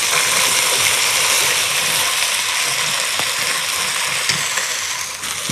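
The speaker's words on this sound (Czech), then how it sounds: "Zeleninu podlejeme vodou." Water pours in a steady, loud gush over vegetables in a pot for a rabbit and white bean soup, with a few small clinks near the end.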